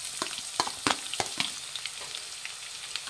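Finely chopped onions frying in hot oil in a pan, a continuous sizzle broken by repeated scraping and stirring knocks from a spoon, close and fairly loud.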